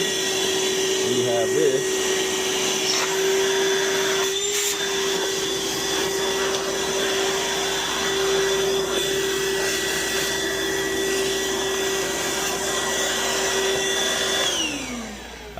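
Ryobi ONE+ 18V cordless 1-gallon wet/dry vacuum switching on and running with a steady loud whine and hum, a person speaking briefly near the start, then winding down at the end.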